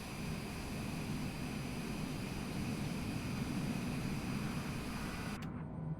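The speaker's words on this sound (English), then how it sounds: "the reverse are working great on here too" A Cessna Citation Longitude business jet in Microsoft Flight Simulator 2024 roars steadily under reverse thrust during landing rollout, a dense, loud, even engine rush that cuts off abruptly at the end.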